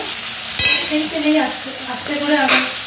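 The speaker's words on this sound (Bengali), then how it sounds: "করলাটাকে ভাজবো এবং সামান্য লবণ দিয়ে করলাটাকে খুব ভালো করে ভেজে নিতে হবে" Bitter gourd fries in oil left over from frying lentil fritters, producing a continuous loud sizzle with a couple of brief clinks and stirring sounds over three seconds, with no talking.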